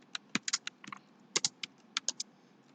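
Computer keyboard keys clatter in a quick cluster of clicks for a Ctrl Shift N shortcut in Photoshop, a dozen or so crisp, close taps in small bursts over a quiet background.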